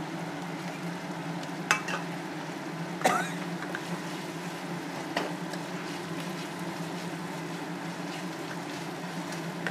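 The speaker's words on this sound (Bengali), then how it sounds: "টমেটো কুচিটা দিয়ে দিলাম, এটা একটু ভাজা ভাজা হবে।" Chopped tomato fries in a pan for a chitol fish kaliya, a continuous close sizzle with a few sharp clinks and scrapes of stirring breaking through.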